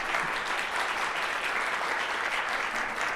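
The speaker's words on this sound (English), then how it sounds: "give him another warm round of applause" An audience at BazelCon 2025 in Atlanta applauds after a conference talk, a dense, steady wash of many hands clapping together with no voices over it.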